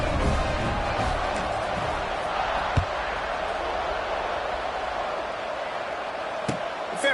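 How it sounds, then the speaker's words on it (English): A football stadium crowd hums steadily after a score at a USC game, a dense, far-off wash of voices with a couple of sharp knocks on top. "this crowd is buzzing after that last score"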